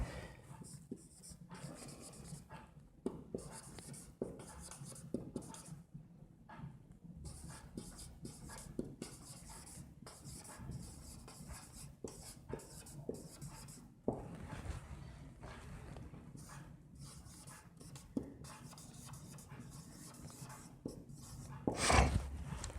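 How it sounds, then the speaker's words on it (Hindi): A pen writes out an answer by hand: soft, continuous scratching and rubbing strokes with small pauses, faint and close, steady for more than twenty seconds. "पहले मैं आंसर लिखता हूं"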